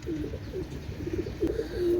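Pigeons coo in soft, low, throaty repeated calls, close by, several birds overlapping in a continuous murmuring stream without talk.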